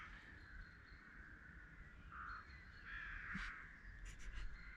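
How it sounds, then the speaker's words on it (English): A bird near a small nest hole in a tree gives several harsh, drawn-out cawing calls over a quiet outdoor background, moderately distant and unaccompanied by talk. "I've just spotted a bird coming out of this hole just here, and it was quite noisy"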